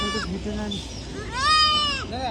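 A goat bleats twice in quick succession, close and fairly loud, with a wavering, nasal cry; a short voice is heard just before.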